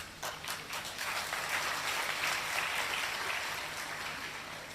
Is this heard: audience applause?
yes